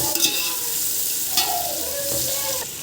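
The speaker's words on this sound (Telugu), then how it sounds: "కూడా వేయించుకోవాలి ఇవి కూడా వేగాలి బాగా పొటాటోస్ వేగినట్టు ఇవి కూడా వేగాలి" Soya chunks and potatoes frying in a pan, a loud, continuous sizzle with scraping stirs and a brief whine partway through, close up and without speech.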